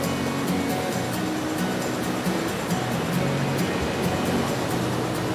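Ocean surf rolling onto the long sandy beach of the Anse de Vauville in La Hague, Normandy, a steady broad wash of breaking waves close by with no talking.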